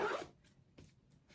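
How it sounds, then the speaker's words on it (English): Zipper on pleather costume boots being pulled, a loud close rasp at first followed by a few shorter, quieter zipping strokes. "They have a zipper that your foot just slides into and it zips up."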